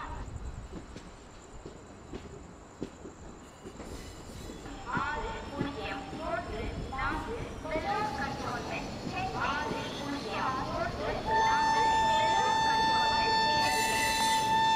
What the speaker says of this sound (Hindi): ये वाला हॉर्न देने के बाद मैं अपने ब्रेक्स कर देता हूँ अप्लाई